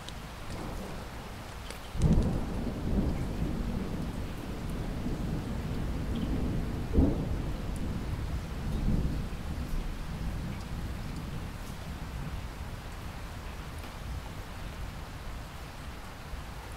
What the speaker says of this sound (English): you hear the gentle pattering of raindrops on the pond's surface